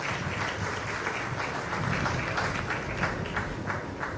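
An audience applauds a speaker at an awards launch event, with steady, dense clapping filling the room at an even loudness from start to finish.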